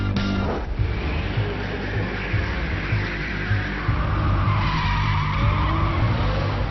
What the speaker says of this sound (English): Drifting, sliding, and having fun.